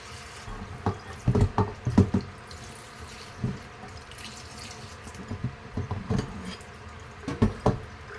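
Raw pork being rinsed under running water in a kitchen sink, with irregular splashes and drips rising over a low steady trickle, close and fairly quiet.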